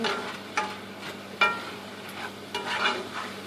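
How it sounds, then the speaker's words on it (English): Ground hamburger meat browns in a single skillet for homemade Spanish rice, a steady close sizzle broken by several scraping strokes of a spoon against the pan. "And get that hamburger all browned real good."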